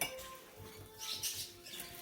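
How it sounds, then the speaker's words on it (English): A frying pan lifted and set down on a stovetop before frying chicken, giving faint metallic clanks and light scraping in a quiet kitchen, with no voices. "Okay, now we're gonna get the frying pan."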